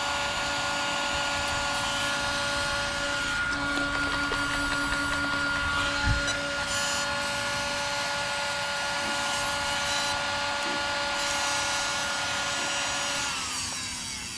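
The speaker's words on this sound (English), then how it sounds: "the fan, you can hear it grinding up" Rock chips grind inside an off-road RC car's ESC cooling fan, making a steady, close mechanical whirring with rough scraping and a few sharp clicks throughout.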